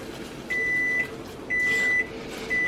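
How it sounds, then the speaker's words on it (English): A kitchen microwave oven hums steadily while its timer gives three even, high, sustained beeps about a second apart, loud and close with no speech. "That's the microwave."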